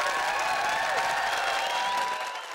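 A studio audience at a filming of the sitcom The IT Crowd claps and cheers in a continuous wash of applause with faint voices mixed in, tapering slightly at the end.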